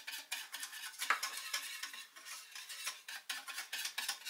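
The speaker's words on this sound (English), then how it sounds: "And whisking as you go helps to mix it in nicely." Chocolate mixture for a Black Forest trifle being whisked in a bowl, quiet rapid rhythmic scraping and tapping strokes, close and continuous with no voices.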